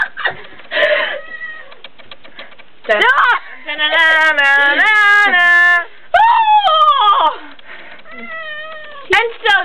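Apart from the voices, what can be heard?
cats meowing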